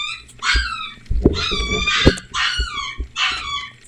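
Several puppies yip and bark in rapid, high-pitched bursts, four clear clusters of overlapping barks close to the microphone, with a few low thumps between them.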